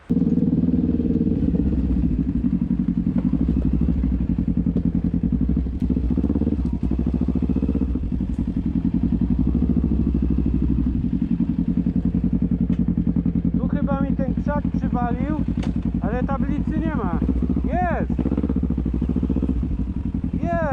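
A motorcycle ridden with a steady droning engine that holds throughout, loud and close, with someone talking over it.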